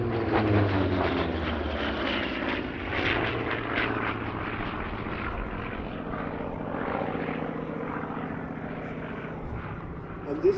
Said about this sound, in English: really is the pinnacle of piston engine fighter design